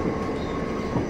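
A train runs near Maidstone, heard as a short, steady rumble of rolling rail noise with a faint rhythmic wheel clatter close by.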